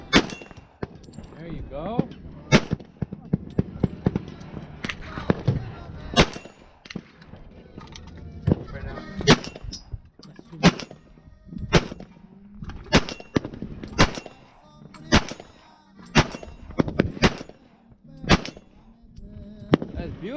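A Glock 27 pistol fitted with a conversion kit fires repeatedly at steel targets outdoors in the desert, sharp loud single cracks at uneven intervals with metallic rings, while people talk briefly between shots.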